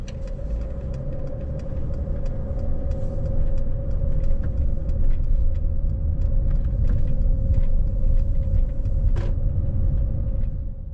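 A car cruises on historic Route 66 through a small Arizona town between Seligman and Ash Fork. The engine and road rumble stay steady and close, with a faint whine and light cabin rattles, and no one speaks.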